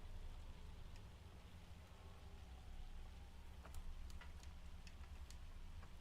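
Steady rain falls in Farming Simulator as a soft, continuous hiss with a low rumble underneath, while a few sharp ticks of drops or small clicks stand out briefly; no one speaks.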